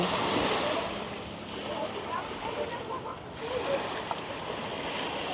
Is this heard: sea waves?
yes